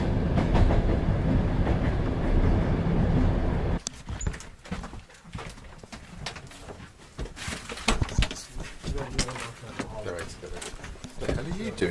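Train running, heard from inside a compartment on a rail journey toward the Sokh exclave: a steady rumble with rhythmic clatter, loud and continuous, then quieter and more broken, with voices speaking over it.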